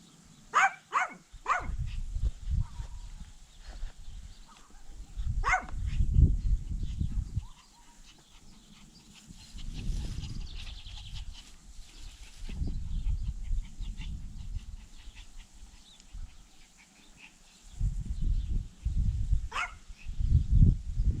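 A dog barks outdoors in short sharp bursts, a few quick barks early and more scattered later, fairly distant, over rustling and low rumbling background noise, with no talk.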